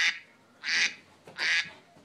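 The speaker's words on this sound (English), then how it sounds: "You're recording with the duck sound?" Duck quacks played from a duck call app on a phone, three loud nasal quacks spaced about half a second apart, near and clear, with no talking over them.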